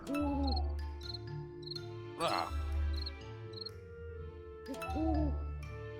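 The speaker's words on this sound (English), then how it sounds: "So this owl is the servant of the devil." An owl hoots in the video game Pumpkin Jack, in soft repeated hoot calls that recur a few times over sustained game music and ambience, with a brief louder burst midway.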